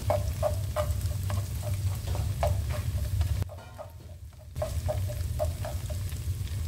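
Plain nasi lemak rice frying toward crispness in a pan, with a steady sizzle and repeated scraping taps from stirring, continuous apart from a brief quieter pause midway.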